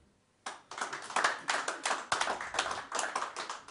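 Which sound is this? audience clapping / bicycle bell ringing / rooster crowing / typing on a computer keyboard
audience clapping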